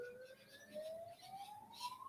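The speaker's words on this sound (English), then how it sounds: "with the sound of the siren, it sounds like a police car" Distant police car siren: a faint, thin wailing tone that rises slowly and steadily in pitch, heard far off against quiet background noise.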